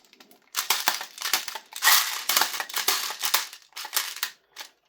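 An airsoft gas blowback rifle magazine for a Colt CAR-15 is filled with BBs, giving close, rapid rattling and clicking bursts in uneven runs with brief pauses, no voices.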